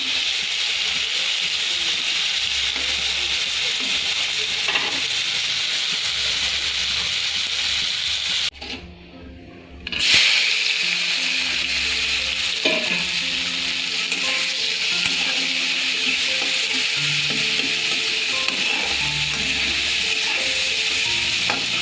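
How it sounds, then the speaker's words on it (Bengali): Fish frying in oil in a pan while onions brown on a second burner, with a steady close sizzle and occasional stirring scrapes, briefly cut by a moment of near-silence midway. "এক চুলায় পেঁয়াজটা বসিয়ে দিয়েছি লাল করতে, আর আরেকদিকে মাছটা ভেজে নেই"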